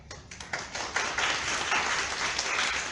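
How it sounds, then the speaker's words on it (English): A class of students clapping together, a brief burst of applause that builds from a few scattered claps into a dense, steady wash of many hands. "So everybody give them a clap."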